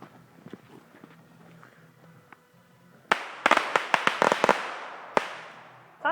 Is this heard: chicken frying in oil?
no